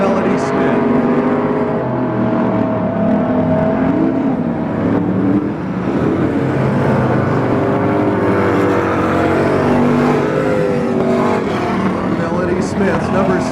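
Stock cars race at the Turkey Classic in Pearsonville, California, their engines roaring loudly and continuously as they drone and rev through the corners. A race commentator talks over the engines the whole time.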